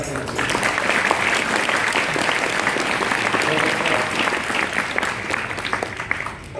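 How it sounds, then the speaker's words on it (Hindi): Loud, sustained applause from an Arya Samaj gathering fills the hall for several seconds, dense and steady with some voices mixed in, tapering slightly at the end. "मैं समझता हूं कि एक बार जोरदार तालियां बजाया"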